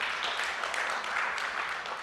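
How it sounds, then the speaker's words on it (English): A crowd at a tech meetup livestream in New York claps steadily, a dense, even wash of applause that holds at the same moderate level throughout, with no talk over it. "Give yourselves a round of applause for showing up."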